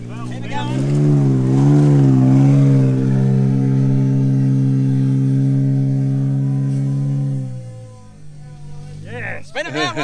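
An off-road vehicle in low range revs hard with a loud, rising and falling engine roar that holds steady for several seconds before dropping off, with voices coming in near the end.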